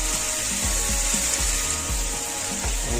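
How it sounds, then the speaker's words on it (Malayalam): Pre-cooked green beans frying in hot oil for Kerala payar mezhukkupuratti, a steady close sizzle with rhythmic scraping strokes of a stirring spoon roughly three times a second, no voices. "എണ്ണയൊന്ന് ചൂടാകുമ്പോൾ നമ്മൾ മുമ്പ് വേവിച്ച് വെച്ച പയർ എല്ലാം കൂടെ ഇട്ട് കൊടുത്ത് നല്ലപോലെ ഒന്ന് ഇളക്കി കൊടുക്കും."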